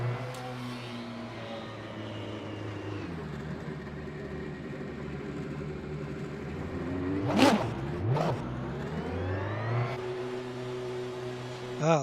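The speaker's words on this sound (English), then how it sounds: "Ah, the engine has ignited." Race car engine in the Le Mans Ultimate racing game at Portimao, Portugal, holding a steady drone, then revving in sharp rising and falling bursts before settling back, loud and close with no talk.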